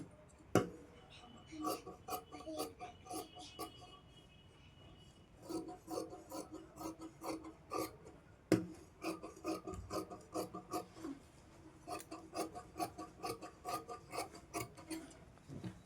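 Scissors snip through blouse fabric while cutting a neckline, giving bursts of crisp, rasping cuts in quick runs separated by short pauses, close and fairly quiet.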